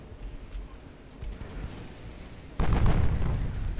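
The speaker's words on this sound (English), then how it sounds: "The 7-inch guns are running out of ammo." Naval 7-inch guns firing in the video game Ultimate Admiral Dreadnoughts, a few distant dull booms followed by a louder, sustained heavy blast rumble near the end.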